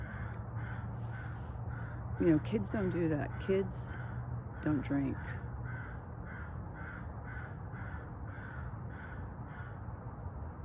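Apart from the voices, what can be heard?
crow cawing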